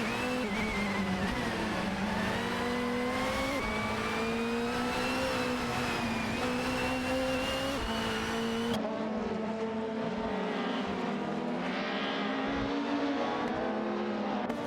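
Racing cars in a video game race, including a 1998 Ford Mondeo and a Peugeot 406, with engine notes droning loud and steady, pitch sliding up and down through gear changes, with no break for the whole stretch.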